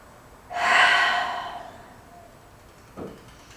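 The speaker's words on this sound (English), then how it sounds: "Big deep breath in and another one out." Deep breathing during a restful yoga session: one long, fairly loud breath swells and fades over about a second and a half, followed by a shorter, softer breath a moment later, with no talking.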